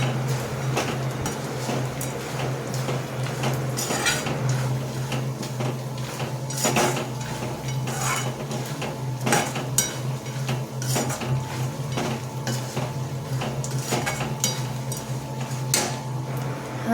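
A metal spoon scrapes and clinks against a pan as garlic and spices for churmuri chivda roast and get stirred, with repeated sharp knocks and scraping over a low, steady background hum.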